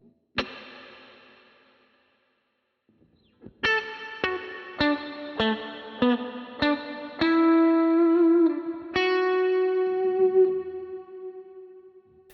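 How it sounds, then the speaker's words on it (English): Guitar run through a Strymon Big Sky set to a basic plate reverb in a Headrush effects loop: a single struck chord rings out and decays, then a rhythmic series of picked chords follows, each leaving a smooth, shimmering plate tail, played alone. "I've set up a Big Sky and I've set up a basic plate"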